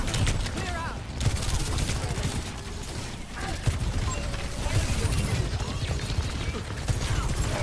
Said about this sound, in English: just charge up my charge shots over and over again